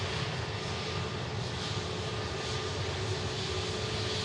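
An EasyJet Airbus A321 airliner from Paris taxiing at Manchester Airport, a steady, even jet-engine rumble and whine that holds level throughout without rising or fading.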